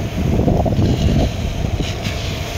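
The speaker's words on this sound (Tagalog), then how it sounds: "Malakas pa rin yung hangin dito" Strong wind roars and buffets the microphone in a loud, continuous low rumble at an NLEX connector road construction site, easing slightly partway through.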